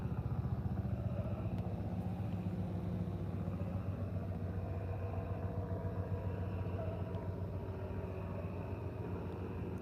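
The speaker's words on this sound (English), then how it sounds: "Chopper coming in." A helicopter flies in toward a nearby landing spot, giving a steady, loud low rumble with a faint rhythmic throb that holds close and constant from start to finish.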